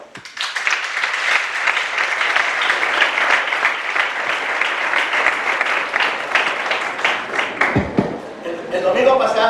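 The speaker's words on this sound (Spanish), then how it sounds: "Dele palmas al Señor." A church congregation claps steadily and loudly for several seconds during a worship service, dense rhythmic clapping filling the room, with a brief voice and a dip near the end before the clapping swells again.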